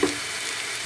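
Chili dropped into browned onions and cumin frying in a pan, giving a steady close sizzle with no talking.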